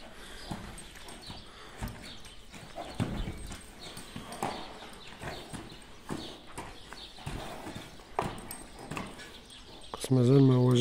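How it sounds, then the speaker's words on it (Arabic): Horse hooves clip-clop on the ground in an uneven, repeated rhythm at a farm where mares are kept for breeding, with a voice rising briefly near the end. "حصان ما شاء الله حصان ممتاز."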